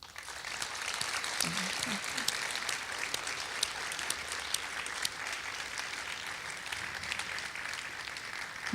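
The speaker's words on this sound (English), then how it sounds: "Let's give a big round of applause to Badra." An audience applauding at a youth human rights awards ceremony, steady dense clapping for the whole stretch, moderately distant, with a brief voice near the start.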